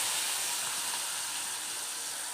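Elephant foot yam pieces, salted and half-boiled, frying in hot oil give off a steady, even sizzle and hiss that stays close and constant throughout, with no voices over it.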